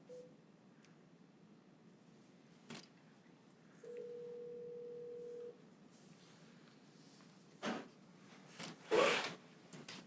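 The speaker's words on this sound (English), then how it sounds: "Hopefully I know how to make this phone call." A telephone is dialed, giving a single steady dial-tone beep followed by scattered clicks and handling noises, quiet and close in an otherwise silent room.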